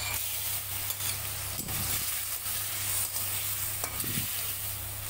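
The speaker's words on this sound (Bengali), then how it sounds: "এবারে ভেজে রাখা আলুগুলো দিয়ে দেব।" Fried potatoes being stirred with spices in a pan, a soft continuous sizzle with occasional scraping strokes of a spatula, fairly quiet and steady.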